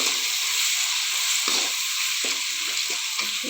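Hot oil crackles steadily around garlic, chilli, ginger, turmeric and spices, a dense close sizzle with several short scraping strokes as the mixture is stirred in the pan.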